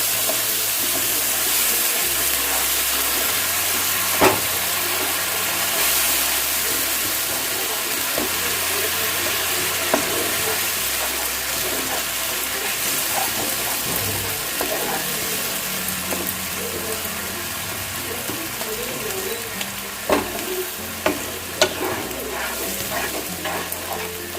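Whisked sour yogurt being stirred into frying spinach paneer masala in a pan over low gas, a steady sizzle and frying crackle with occasional scraping clinks of the spoon, running continuously without speech.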